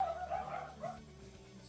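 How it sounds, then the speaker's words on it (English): A dog barks and whines faintly in the distance in a video game map, a short, muffled yelp over quiet background. "Sorry if you hear dogs in the background."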